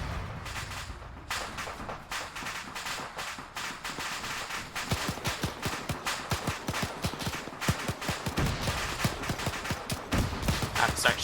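Sustained gunfire from a suppressive fire order in the military shooter Arma 3, a dense fusillade of rapid overlapping shots that builds in intensity over about eleven seconds.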